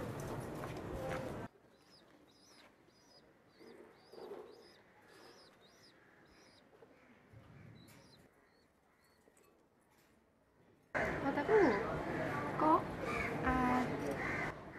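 Gola and giribaj pigeons on a rooftop coo and call faintly and intermittently through a quiet stretch, framed by louder, broadband noise bursts at the start and end.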